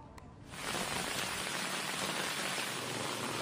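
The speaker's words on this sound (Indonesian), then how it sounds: "Hujan es kembali mengguyur Kota Bandung Senin sore." Hail mixed with heavy rain pours down on a Monday afternoon on a street in Bandung, a dense steady hiss that starts abruptly and continues loud and unbroken, with no voices.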